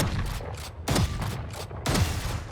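Judge shotgun blasts from the shooter game Valorant ring out three times at an even pace, each a sharp, loud, booming crack with a short tail.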